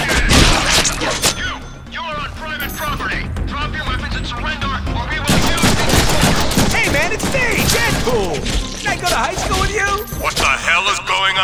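Dense rapid gunfire and heavy impacts in the Deadpool video game, a continuous loud barrage running throughout the whole stretch, mixed with shouting voices and crashing effects.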